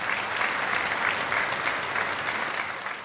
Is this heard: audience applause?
yes